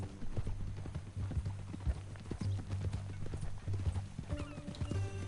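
Horse hooves clip-clop in a steady walking rhythm in Red Dead Redemption 2, close and clear, with a low tonal hum underneath and a brief whinny-like sound near the end.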